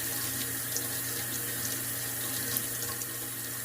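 Steady water running from a tap into a sink while tie-dyed fabric is rinsed, a continuous even hiss and splash with no talking.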